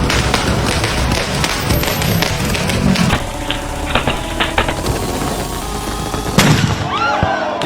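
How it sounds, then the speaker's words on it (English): Fireworks set off illegally in a Sydney suburban neighbourhood at night, a dense barrage of sharp crackling pops and bangs, loud and continuous, with a few louder bursts and whistling rockets toward the end. "a bunch of Lebanese people illegally shooting fireworks in the neighborhood all night"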